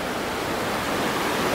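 A river rushes through Green River Gorge beneath a rocky, mossy, wooded wall, giving a steady, broadband, close wash of flowing water with no pauses.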